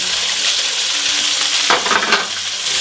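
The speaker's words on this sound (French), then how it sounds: "la viande dans la poêle. On va la faire cuire tranquillement." Steak and onions frying in a hot pan give off a steady, dense sizzle throughout, with a short burst of louder spitting and crackling partway through, likely as the food is stirred or turned.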